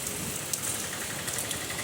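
Steady rain pours down at night, a dense, loud, even hiss with a few faint spatters over the short stretch and no speech.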